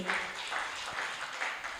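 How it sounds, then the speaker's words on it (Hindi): Audience applause at a Jain religious gathering, a dense patter of many hands clapping that continues evenly throughout and stays moderately loud. "एक बार जोरदार ताली बजा के"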